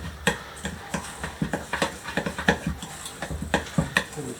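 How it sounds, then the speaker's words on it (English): Melted, just-boiled butter stirred into a breadcrumb and coconut mixture in a bowl, a close series of irregular scraping clicks and taps of the utensil against the dish, fairly loud with no talking. "we're just going to combine that with the breadcrumb slash coconut mix"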